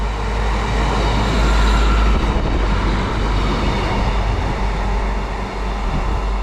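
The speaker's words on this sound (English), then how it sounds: "we've got another train. This one is another 150-1. It is 150 143 heading to Blackburn." Class 150 diesel multiple unit train heading to Blackburn, a loud continuous low rumble and roar of the passing train close by, with no talk over it.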